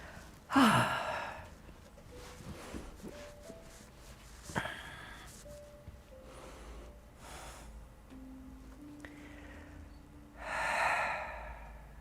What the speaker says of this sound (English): Focus on the sound of your breath.